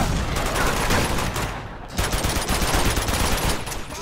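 Dense, continuous gunfire in Uncharted 2 forms a loud, noisy wall of rapid shots that briefly thins out midway and then resumes.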